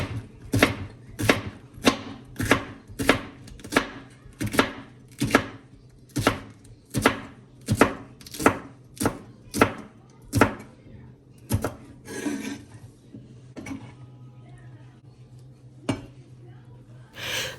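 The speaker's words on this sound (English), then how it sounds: "repeat until you're done cutting and chopping all your okra" A knife chops okra on a board in a kitchen, about twenty crisp regular strokes roughly every half second, then a few scattered taps and quiet handling near the end, close and clear.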